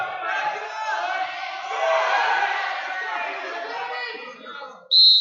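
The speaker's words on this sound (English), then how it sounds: "Got people banging the floor, bleachers, cheering." A packed high school wrestling crowd at Pennridge versus Council Rock South roars and cheers steadily while feet bang on the bleachers and floor, a loud sustained din with voices swelling in the middle before a sharp whistle-like burst at the end.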